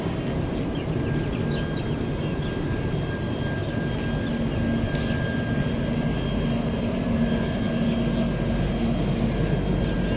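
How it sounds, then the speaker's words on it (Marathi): A train rumbles steadily with a constant low roar and a faint high whine, continuous and loud throughout, with no talking. "चला माझ्यासोबत आता ट्रेन आली आहे, त्याच्यामध्ये आपण बसू."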